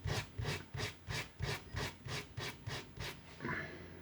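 Hand sanding of a bentwood ring, steady back-and-forth rubbing strokes repeating about every third of a second, close and clear with no talking.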